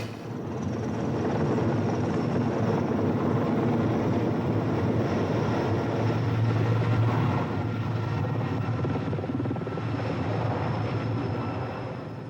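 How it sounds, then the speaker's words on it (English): A helicopter making repeated runs over the 1997 Grand Forks flood and fire drones loudly and continuously, a steady rotor thrum with a broad whooshing roar and no voices. "A helicopter was on the scene again today. It made run after run."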